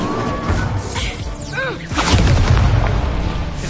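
The Incendio fire spell cast in the video game Hogwarts Legacy, a loud whooshing burst that swells into booming, crackling impacts amid busy combat effects, with brief sweeping tonal streaks in between.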